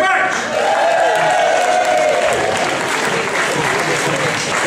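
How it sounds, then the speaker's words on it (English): Applause and cheering from a ceilidh audience in a hall fill the whole stretch, a dense, loud, continuous wash of clapping with whoops rising over it. "big cheer for them"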